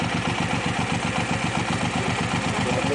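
A motorcycle engine idles steadily and close by, its low, even pulses continuing without a break and with no talk.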